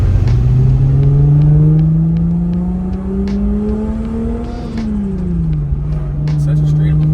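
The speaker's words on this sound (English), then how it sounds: "We're inside a Supra. We're gonna go for a quick spin." Engine of a 1994 Toyota Supra heard from inside the cabin on a quick drive, rising steadily under acceleration, dropping at a shift and then settling into a steady cruise, loud and close, with people talking over it.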